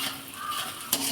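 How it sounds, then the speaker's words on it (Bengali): Onion, garlic and green chili fry in a pan with a soft continuous sizzle, broken by one brief metallic clink near the end. "এদিকে পেঁয়াজ রসুন কাঁচা লঙ্কা দিয়ে দিয়েছি। তো একটু অল্প ভেজে নেব"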